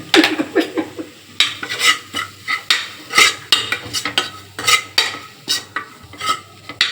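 A spoon stirs chapati kurma ingredients together in a pan, loud rhythmic scraping strokes repeating about twice a second with a light sizzle underneath, and no voices.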